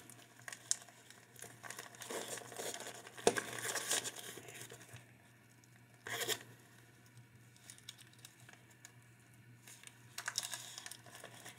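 Scissors cutting open the plastic packaging of a Facebook Marketplace Pokémon card lot, heard close and quiet as a few short crinkling, snipping bursts with pauses between them.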